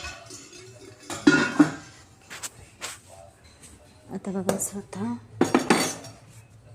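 Metal puja vessels and utensils clank and clink in several separate bursts, close by and fairly loud, with someone speaking briefly between the sounds.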